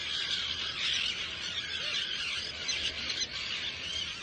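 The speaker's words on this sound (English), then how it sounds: "The camp's placed amidst thousands of screaming terns" Thousands of terns screaming at a seabird colony, a dense, continuous chorus of shrill calls overlapping without pause, loud and near.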